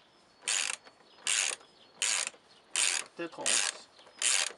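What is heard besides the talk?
ratchet wrench tightening oil filter housing on Opel Corsa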